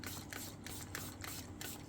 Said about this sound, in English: What I'm going to do is I'm going to spray the back of my plastic.